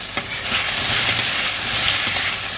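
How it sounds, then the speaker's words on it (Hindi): Taro root (arbi) frying in hot oil in a pan, a steady close sizzle and hiss that runs without a break, with a few faint stirring clicks on top. "हल्की सी अरवी मेरी फ्राई हो जाएगी, हल्की सी रेड हो जाएगी"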